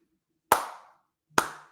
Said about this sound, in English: I'm clapping for anybody not watching the video